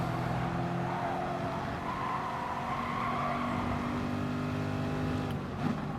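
Corvette race car in the GT Sport racing game, its engine droning steadily at high revs with tire noise throughout, a brief skid or scrape near the end.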